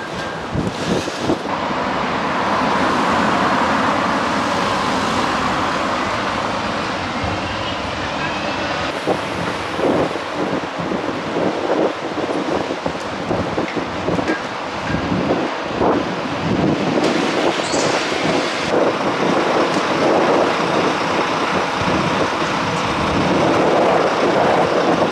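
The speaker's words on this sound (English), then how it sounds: "Maybe a wee bit of shelter from the wind in this wee lane" Strong wind buffets the microphone in a Glasgow street, a loud continuous roaring rumble with gusting swells throughout, while someone talks intermittently under it.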